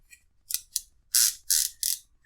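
Icon 12mm double box flex ratcheting wrench from Harbor Freight clicking under torque testing, several short sharp ratchet bursts in quick succession, close and crisp, with brief gaps between them and no talking.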